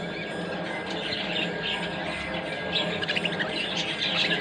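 Pet finches, including a pair of spangle birds, in an aviary enclosure chirp and tweet continuously, with a dense layer of small, close, overlapping calls and brief squawks, busier toward the end, with no talking.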